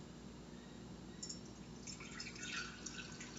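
Coffee trickles and drips as it is poured into quart-sized jars, a faint, steady liquid stream that grows a little busier toward the end, with no talking.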